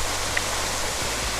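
Steady, full broadband rush of a waterfall pouring into a secluded swimming hole in the Azores, a constant close roar without a break.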